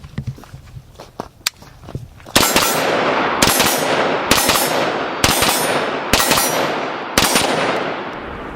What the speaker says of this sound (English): So let's go back to some CQB shooting now.